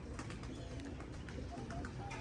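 Racing pigeons coo and flutter close by as they arrive at their loft, soft calls repeating over a busy, continuous background of bird activity.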